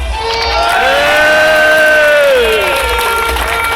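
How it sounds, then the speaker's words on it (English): A large crowd at a Luton Town football parade cheers and claps for a player, voices and whoops rising into a loud, continuous roar mixed with shouting. "I know he's going to get a massive round of applause"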